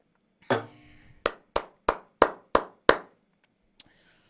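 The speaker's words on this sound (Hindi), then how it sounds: "विराट कोहली के लिए एक बारी तालियां हो जाए भाई लोग, प्लीज एक बारी तालियां हो जाए" Seven sharp, separate hand claps ring out one after another in a quiet room at an even, deliberate pace, followed by a faint single tap, with no crowd behind them.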